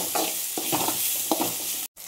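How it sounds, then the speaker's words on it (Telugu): Eggplant (brinjal) curry with tamarind and coriander sizzling in a pan, stirred in several distinct scraping strokes over a steady close fry, ending in a brief cutoff. "వంకాయలు కూడా బాగా ఫ్రై అయిపోయాయి."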